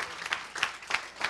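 Audience applause at a career services talk: a short, soft run of evenly spaced claps that sounds thin, like a small room or only a few people clapping.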